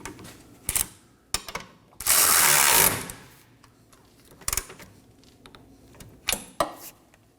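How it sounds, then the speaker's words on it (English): A wrench tightens a nut on a rear forward lower control arm alignment bolt of a 2015-2023 Nissan Maxima, heard as sparse sharp metallic clicks and ratchet-like taps with a longer harsh burst in the middle, close and alone. "Now snug down the nut side while you hold the other side with a wrench."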